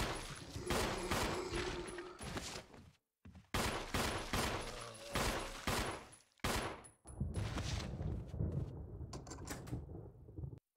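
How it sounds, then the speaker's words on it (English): Rapid bursts of Samurai Edge pistol fire against zombies in Resident Evil HD Remastered, clustered volleys with brief pauses between, punchy and close, mixed with game mechanism clatter. "let's shoot some zombies"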